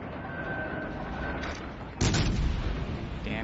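Warship guns of a Baltimore cruiser firing in World of Warships Legends, a low ambient hum broken by a heavy booming salvo about halfway through, followed by rumbling echo.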